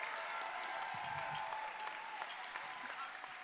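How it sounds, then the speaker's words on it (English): Applause from the crowd at the Olympic High School 2022 commencement ceremony, a steady patter of many hands with a few louder nearby claps and faint voices underneath, tapering slightly toward the end. "Let's give ourselves and those who around us a huge round of applause"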